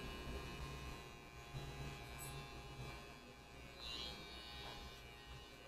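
An electric hair clipper buzzes steadily while cutting a woman's hair, a continuous close hum with slight wavering as it jams and is moved up and down through the hair.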